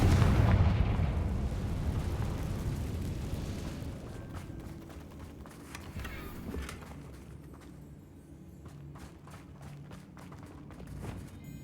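Confringo blasting spell exploding in the Hogwarts Legacy video game: one heavy boom at the outset that rolls off into a long fading rumble, followed by faint scattered crackles.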